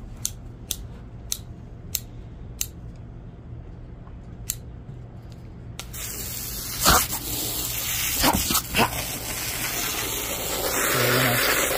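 A dog snaps at the spray from a garden hose. A few sharp clicks come first, then a loud hissing stream of water with bursts and splashes as the spray is broken up.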